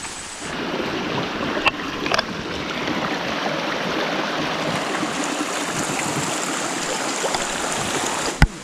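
A waterfall in Deogarh pours with a broad, continuous rushing roar, heard from fairly near and steady throughout, with a couple of faint clicks and no speech.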